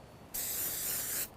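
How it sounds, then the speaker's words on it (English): A single burst of spray from a bottle of systemic pesticide mists a Schefflera bonsai, a close, steady hiss lasting about a second between quiet moments. "So I'm just going to go ahead and start spraying it"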